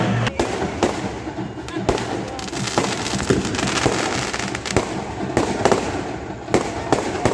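Fireworks burst overhead during a nighttime festival procession at a Hindu religious celebration in Maniknagar. Loud, sharp bangs and crackles repeat irregularly over a continuous roar, with crowd voices mixed in.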